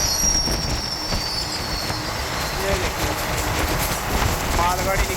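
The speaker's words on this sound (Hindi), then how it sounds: "मालगाड़ी निकली है DFC पे।" A freight train rushes past on a dedicated freight corridor, with loud close rumbling, wheel clatter and high metallic squeals from the wheels running continuously through the passage.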